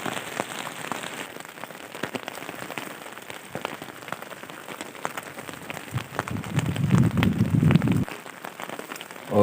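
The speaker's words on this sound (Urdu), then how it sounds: "صبح بارش شروع ہو گئی ہے" Morning rain falls on a bushcraft campsite in Pakistan. Dense, steady patter of drops lands on nearby surfaces with sharper individual hits, and a low rumbling swell comes in near the end. No one speaks.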